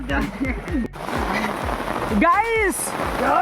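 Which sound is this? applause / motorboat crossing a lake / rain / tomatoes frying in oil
rain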